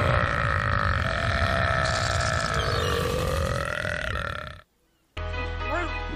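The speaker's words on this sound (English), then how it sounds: "burps are like the sweetest." An animated female character lets out a long, loud, drawn-out burp with a wavering tone, followed after a short silence by a second, shorter burp with bright musical effects.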